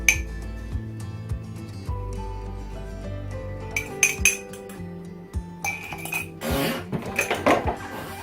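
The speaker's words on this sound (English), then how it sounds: "The rest of the milk, the egg, give it a little stir" Milk and egg stirred in a mixing bowl for jam doughnut dough, the spoon giving repeated bright clinks against the bowl, close and moderately loud with irregular pauses.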